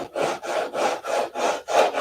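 Hand saw cutting through a wooden model wing to open it up, six steady back-and-forth rasping strokes in an even rhythm, close and alone.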